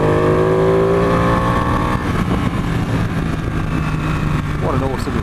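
Ducati 899 Panigale motorcycle engine while riding, a steady loud droning roar with a wind-blown rumble and a brief shift near the end, a voice talking over it.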